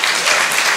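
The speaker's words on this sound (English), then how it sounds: "if I can have an applause for our board" A brief, loud burst of audience applause for a volunteer board at a documentary photography event, dense and even clapping heard alone.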